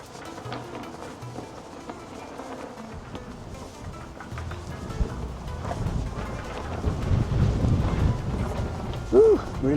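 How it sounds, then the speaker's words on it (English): Strong gusts buffet the microphone at a high lookout over Istanbul, a low rumbling roar that builds and swells toward the end, with faint background sounds. "Whew, really windy today."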